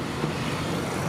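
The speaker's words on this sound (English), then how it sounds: "A lot of motorbikes here." Steady wash of road traffic in Kamal city center, a busy street with many motorbikes, including big bikes, running together as a continuous engine drone with no single vehicle standing out.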